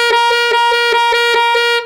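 A saxophone sustains a G using a false fingering with the right-hand second and third keys plus low C, with steady rhythmic pulses and wavers in the tone, loud and near, played alone without speech.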